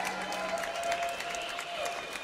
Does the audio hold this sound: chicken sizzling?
no